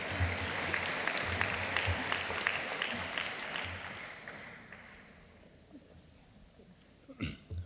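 Graduation ceremony audience applauding in a large hall, a loud crowd of claps that thins and fades out midway, leaving quieter room tone before a couple of brief louder knocks at the end.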